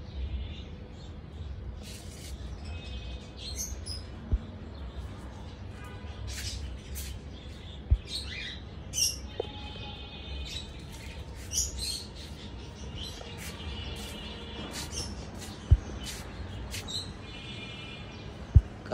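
Birds chirp and tweet in scattered short bursts over a low background murmur, with occasional sharp clicks and knocks, moderately faint and without distinct talking.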